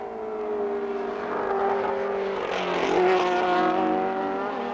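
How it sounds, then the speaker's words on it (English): A Formula Atlantic race car with a 1600cc four-valve VDA engine drones steadily at high revs, its tone holding level and then swelling slightly louder midway, heard on its own without talk. "Its 968 pounds is kicked along by a 1600cc 4-valve VDA engine, delivering 230 horsepower."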